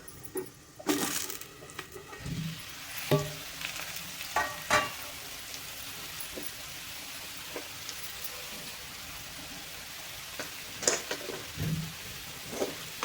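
Bitter gourd and potato pieces fry in oil in a pan, a low steady sizzle broken by several sharp scraping knocks of a spoon stirring, with quieter stretches between.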